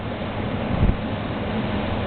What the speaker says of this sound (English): I'll start again on half speed, and this is intake